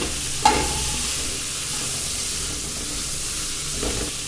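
Beans and carrots sauté with softened onion in a pan for rava upma, giving a steady close sizzle with a couple of soft stirring scrapes near the start and the end.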